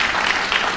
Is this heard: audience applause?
yes